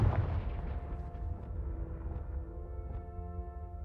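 A Confringo fire spell explodes in a Harry Potter video game, with a heavy booming blast at the start that leaves a long rumbling, ringing tail fading over several seconds, no talk.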